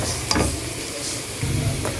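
Pork frying over medium heat with garlic in a pan for adobo, a steady close sizzle with stirring scrapes throughout, no talking.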